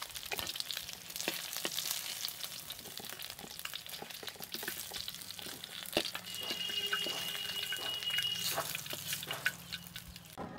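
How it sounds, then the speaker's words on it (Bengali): Shol fish fries in hot oil in a pan, giving a continuous close crackling sizzle with scattered sharp pops and light clinks as the pieces are turned and lifted out. "মাছগুলো এপিট ওপিট খুব সুন্দর করে ভেজে নিয়েছি।"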